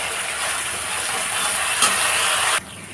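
Washed curry leaves dropped into hot oil with cooked-down spice masala, a loud hissing sizzle that builds and then cuts sharply down near the end.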